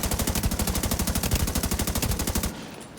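Rapid automatic gunfire in The Division 2, a steady stream of loud, evenly spaced shots for about two and a half seconds that cuts off abruptly into quiet.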